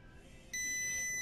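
A multimeter on a continuity test gives a steady electronic beep as the probes touch, a clean high tone that starts partway through and holds at an even level over faint background hiss.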